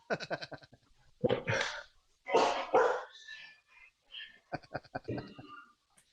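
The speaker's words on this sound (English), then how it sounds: "the dogs are going crazy." Several dogs bark excitedly inside a busy home, in repeated bursts mixed with people talking nearby.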